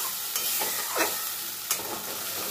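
Masala with cashews is sautéed on a low flame, giving a gentle steady sizzle with a few scraping stirs of the spoon against the pan, close and quiet.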